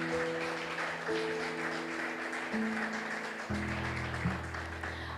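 A congregation in church applauds the Lord with steady, broad clapping over sustained keyboard chords, moderately loud and continuous for several seconds.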